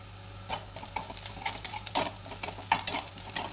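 A spoon stirs and scrapes fried onion with curry leaves, turmeric and red chilli powder in a pan for shev bhaji curry, giving repeated close clinks and scrapes over a steady low sizzle, with no talking.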